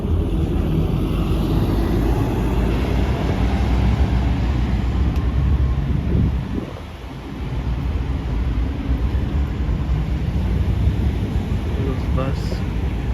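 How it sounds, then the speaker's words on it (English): A bus drives past in White Plains, New York, with a loud, steady low rumble and wind-buffeted noise throughout, dipping briefly midway before the engine roar resumes. "And here goes the bus."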